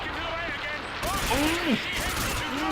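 Gunfire in Call of Duty Modern Warfare 2 sounds as a steady crackle of shots under a busy game mix, with whistling, sweeping tones overhead and talk running through it.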